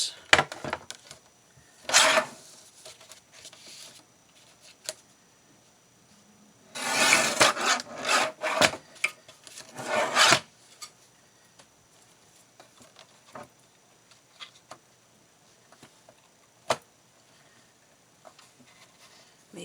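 Wood is trimmed for a homemade Christmas star craft, heard as scattered dry rasping and rubbing strokes, with one dense cluster in the middle, fairly quiet and close, among longer quiet gaps.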